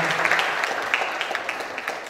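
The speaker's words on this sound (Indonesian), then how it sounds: "tepuk tangan dulu untuk ketiga" An audience at a theatre discussion forum claps for three speakers in a brief, steady round of applause, moderately loud and even throughout.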